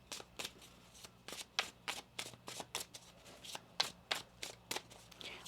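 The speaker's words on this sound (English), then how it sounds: "One more shuffle here." Tarot cards being shuffled by hand, a steady run of about a dozen crisp riffling bursts close to the mic, quiet and with no talking.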